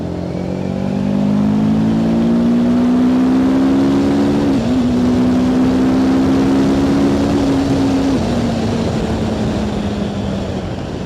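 TVS Apache RTR 310 sport bike engine while riding at speed, a loud steady drone whose pitch slowly climbs, dips briefly at a gear change, then settles and eases down, with wind rush throughout.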